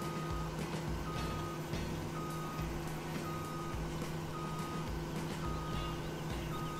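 Steady repeated reversing beeps from a farm vehicle in the Landwirtschafts-Simulator 17 game sound at a regular rhythm over a low engine drone, clear and moderately loud, with no talk.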